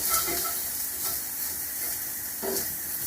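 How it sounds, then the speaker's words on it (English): Flour cooking in a hot pan in a French home kitchen, a soft continuous sizzle broken by a few light stirring scrapes, close and without voices. "Just cook it for 30 seconds to a minute just to take the floury taste out."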